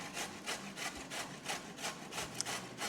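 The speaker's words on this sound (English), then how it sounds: "I'm actually going to grate more carrot" Carrot rubbed against a hand grater for a Portuguese-style salad, about a dozen quick, evenly spaced rasping strokes, close and clear with no talking.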